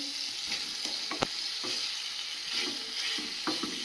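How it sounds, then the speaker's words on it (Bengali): Slices of home-grown ripe pumpkin frying in a pan give a continuous soft sizzle, with occasional light scrapes and taps of stirring, fairly quiet and with no talk. "কুমড়োটা এদিকে ভাজা চাপিয়ে দিয়েছি"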